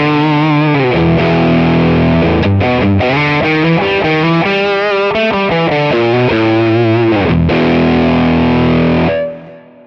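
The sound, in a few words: guitar through distortion pedal capture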